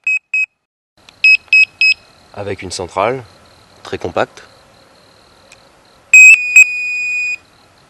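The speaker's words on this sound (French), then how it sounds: "c'est un système de détecteur à commande digitale. Donc avec un marche arrêt, un volume, une tonalité et une sensibilité" A MAD FSX fishing bite indicator with a compact digital control unit gives short electronic beeps: a quick pair, then three beeps, then a longer tone broken by two blips at the end, with someone speaking French in between.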